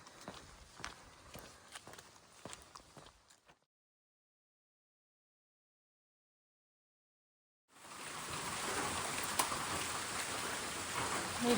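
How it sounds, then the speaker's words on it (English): Heavy pouring rain drums steadily on a trail shelter roof along the Ouachita Trail, loud and continuous after a silent gap, with some earlier pattering and thuds before the break. "It has been pouring rain since North Fork Pinnacle."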